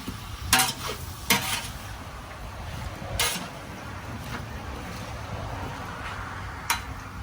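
Homemade wild hog cracklins frying in a pot, a low continuous sizzle broken by a few sharp scraping clacks of a stirring spoon, fairly close and moderate in level.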